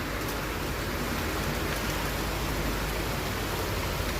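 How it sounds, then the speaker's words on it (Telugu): Heavy rain pouring steadily while an overflowing canal rushes past, a dense unbroken hiss of water at constant loudness with no voices. "అదిగోండి కాలువ పొంగిపోయి అలాగ వస్తున్నాయి వాటర్"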